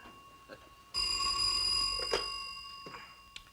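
An old-fashioned telephone bell rings loudly in a quiet house, one sustained metallic ring with steady overtones that slowly fades, with faint room sound before it starts.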